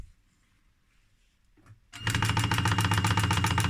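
A sewing machine stitches a dart in leather, starting after a quiet pause and then running as a loud, fast, evenly spaced chatter of stitches close by.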